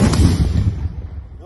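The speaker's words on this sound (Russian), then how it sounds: "Выстрел." A single RPG-7 grenade launcher shot fired in a combat setting, a loud, close blast with a rumbling tail that fades over about a second, with wind buffeting the microphone.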